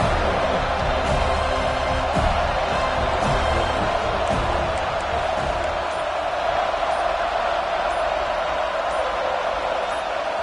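A stadium crowd roars at a college football game between Alabama and Florida State, a loud, sustained wash of cheering and noise with no break, heard from within the stands.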